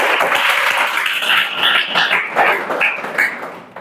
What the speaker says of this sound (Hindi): चला ताली बजाओ भाई